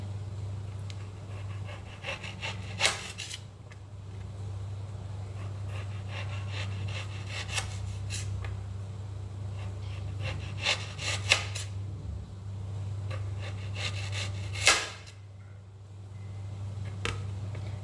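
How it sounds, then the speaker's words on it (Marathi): A knife cuts potatoes into thin slices, producing repeated rasping, scraping strokes with short pauses between them over a low steady hum in a quiet kitchen. "एकदम पातळ पातळ काप करायचे"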